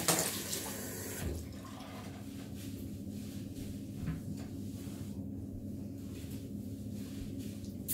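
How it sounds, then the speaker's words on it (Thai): Water is poured over hair before a home haircut, producing a steady, close wash of splashing and flowing water with a low rumble, after a brief louder burst at the start. "เดี๋ยวแม่เอาน้ำใส่ผมก่อน"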